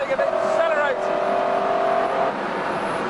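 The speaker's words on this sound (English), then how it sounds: "the most impressive part is the engine. It just goes on accelerating and accelerating." A McLaren F1's 627-horsepower V12 engine revs upward with a rising whine as the car accelerates, then holds a high steady tone before fading, with a voice speaking over it.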